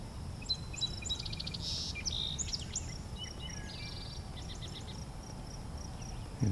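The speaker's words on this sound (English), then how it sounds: "As you might hear, I have a wood thrush pretty far off." Far-off wood thrush song sounds faint and fluttery in the distance, several short phrases rising above a steady low hum of insects and outdoor ambience.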